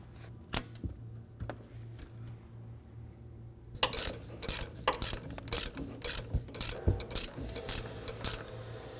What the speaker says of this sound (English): Grab a 5/8 socket and ratchet to tighten this bolt